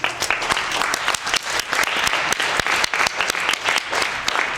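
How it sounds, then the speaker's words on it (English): Dense applause from an audience after a dance audition, steady and close with sharp overlapping claps filling the whole stretch. "Everybody else, give yourself a round of applause."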